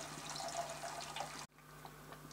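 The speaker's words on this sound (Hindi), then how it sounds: "अब हम इसमें ये पानी डालेंगे।" Water pours into a pan of egg curry gravy, a steady close splashing stream that stops abruptly partway, leaving a quieter background.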